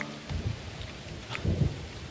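Thunder and rain during a storm in the medieval colony-building game Going Medieval: low rumbling swells over a continuous rain hiss, with two heavier rolls of thunder in quick succession, no voices.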